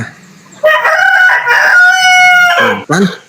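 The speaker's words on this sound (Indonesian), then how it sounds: "Biar tidak ada suara ayam-ayam berkokok begitu ya" A rooster crows loudly and close by, one long drawn-out cock-a-doodle-doo followed by a short final note, with faint background noise before it.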